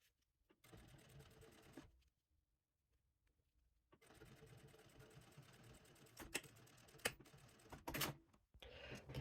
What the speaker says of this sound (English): we will go to the sewing machine and we will top stitch right here